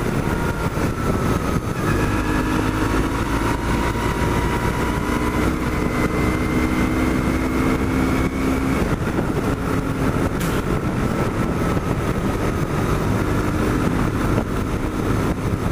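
A BMW R1100T motorcycle engine drones steadily with a rising, straining tone, climbing a hill under load, with constant road and wind rumble throughout.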